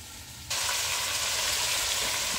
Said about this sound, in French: Je vais couvrir ma casserole là et je laisse cuire les choux.